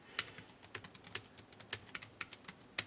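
Fingers type on a computer keyboard, a quick irregular run of close, crisp clicks and taps with short gaps between some strokes, heard alone without talk.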